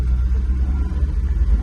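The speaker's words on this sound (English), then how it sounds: "Idles and still revs up." Old Dodge dump truck engine idling after years off the road, a steady low rumble with an even, close, continuous drone and no talking.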